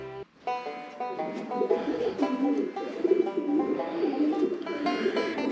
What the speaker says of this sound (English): You can hear all the pigeons.